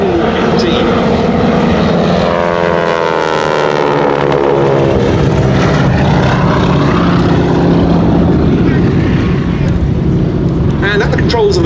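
A Boeing Stearman biplane propeller aircraft flies a wing-walking display at the Duxford Air Festival, its loud droning engine roar shifting in pitch as it passes, with a commentator talking over it throughout.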